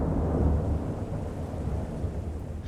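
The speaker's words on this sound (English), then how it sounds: "A faint peal of thunder now comes from far off." A faint, distant peal of thunder, a low rumble that swells and then settles into a steady, broad wash of noise with no voices.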